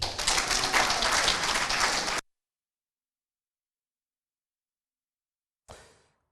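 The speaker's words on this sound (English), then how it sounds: "clap your hand." Crowd at a Ghanaian political rally for the NPP flagbearer race bursts into clapping, a dense, fairly loud patter that stops abruptly after about two seconds, followed by silence and a brief faint burst near the end.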